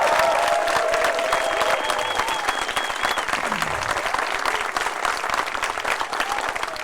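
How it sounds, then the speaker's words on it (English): A middle school 8th grade graduation audience applauds the students: dense, steady clapping from a large crowd that stays loud for the whole stretch, with faint cheering mixed in. "focus the attention just for a second to the students and give them the applause"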